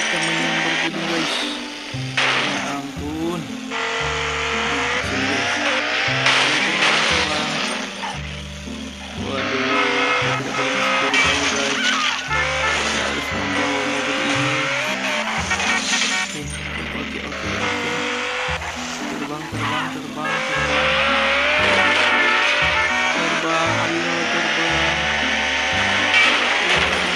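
An out-of-control flying car in an Upin Ipin video game, a continuous loud engine drone with shifting whines, over steady game music with a rhythmic bass pattern throughout.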